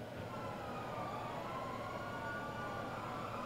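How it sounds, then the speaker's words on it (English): A faint siren wails in the distance, its pitch slowly rising and falling over a low background rumble. "And I'm hearing a lot of sirens."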